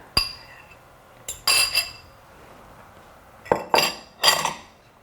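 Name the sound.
mixing muffin batter with a wooden spoon or spatula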